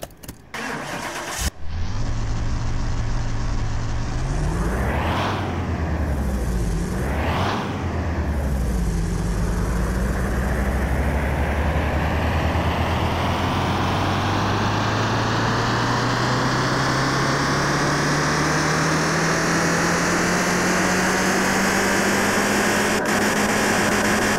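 Nissan Silvia engine from Car Mechanic Simulator 2021 starting up on a dyno, then revving hard in two sharp bursts before settling into a long, steadily rising run. Loud and continuous throughout, with no talk over it.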